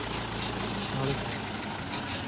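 A tractor engine runs with its lift raising a pole, a steady low idling rumble that stays close and even throughout with no clear speech.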